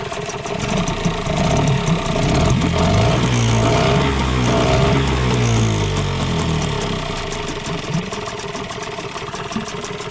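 A Hidea 5 outboard boat motor idles in a steady, close, rattling putter that holds for the whole stretch with no talk.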